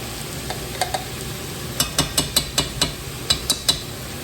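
A teaspoon of garlic goes into celery and carrots softening in a pot for chicken noodle soup; a low steady sizzle runs under a quick series of sharp metallic spoon taps and clinks against the pan, close and without speech.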